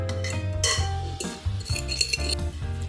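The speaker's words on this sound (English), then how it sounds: "Add 1/3 cup of the chimichurri sauce and mix well with a fork." Fork scraping and clinking in a large mixing bowl as breadcrumbs are stirred together with chimichurri sauce, a close, steady run of soft scrapes and light taps with no talking.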